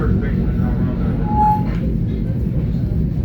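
An NJT South Orange shuttle train moves at a steady pace, heard from inside as a constant low rumble and rattle of the car with a brief faint wheel squeal, while a voice talks over it.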